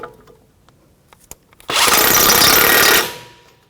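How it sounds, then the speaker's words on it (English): Jeep Patriot strut mounting bolts being tightened with a 21 mm socket on a power tool: a loud, steady impact burst of about a second and a half, preceded by a few faint clicks and taps. "We're going to tighten up our strut mounting bolts."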